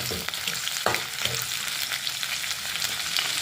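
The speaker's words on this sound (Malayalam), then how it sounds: "ഇനി നമുക്ക് അരിഞ്ഞു വെച്ച ചെറിയ ഉള്ളി ഇടാം. നമുക്ക് കുറച്ച് ഇനി അതും ഇട്ടിട്ട് നമുക്ക് നന്നായിട്ടൊന്ന് ഇളക്കാം." Chopped shallots fry in a pan for a ginger pachadi, with a steady close sizzle and a few scraping stirs near the start. No voices are heard.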